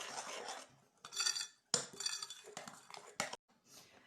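A spoon stirs a tomato mixture in a bowl, giving close, quiet clinks and scrapes of metal against the dish in irregular short strokes with brief silent gaps between them.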